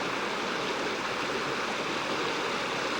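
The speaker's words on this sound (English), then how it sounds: "We're in the Roaring Fork Creek up in the Roaring Fork Nature Trail." Creek water rushes steadily over rocks in Roaring Fork Creek along a mountain nature trail, a close, continuous broadband roar with no voices.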